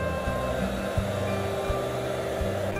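A hair dryer blows steadily at close range while heating an iPhone 11 Pro charging port cable during a repair, a constant whirring hum with faint clicks.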